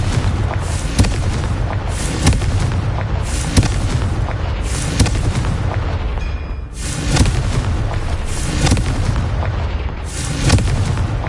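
Continuous loud booming blasts from the Confringo fire spell in the video game Hogwarts Legacy, a dense rumbling barrage with rhythmic peaks and no pause.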